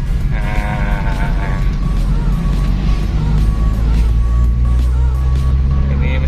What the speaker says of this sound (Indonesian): sekarang kita berangkat test drive ini mobil Toyota Liftback